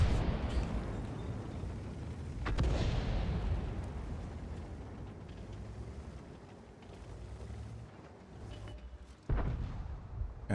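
Artillery shell fire in a tank battle video game, with booming blasts around 2.5 seconds and again near 9.3 seconds over a steady rumbling background.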